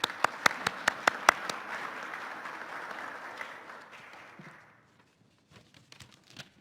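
A round of applause from a conference audience, a few sharp claps standing out at the start before the clapping thins and fades away within about five seconds.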